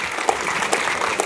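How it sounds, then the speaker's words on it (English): Applause from a small audience at a startup competition, steady clapping at moderate volume. "All right, round of applause."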